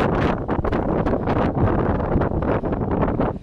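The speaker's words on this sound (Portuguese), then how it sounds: "está ventando muito, ventando muito" Strong wind on the walls of the Castle of the Moors in Sintra, Portugal, buffets the microphone in loud, continuous gusts, a roaring rumble that swells and dips throughout with no voices.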